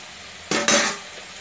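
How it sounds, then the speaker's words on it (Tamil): Two quick metal scrapes and clinks of a spoon stirring rasam in a cooking pot, with salt, turmeric and asafoetida in it, short and close, then quiet. "இதை நல்லா மிக்ஸ் பண்ணி விடுறோம், கலந்து விடுறோம்."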